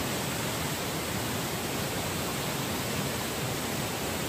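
A waterfall at Vaghalyacha Kada gives a steady, dense rushing roar that stays even and unbroken throughout, with no voices over it.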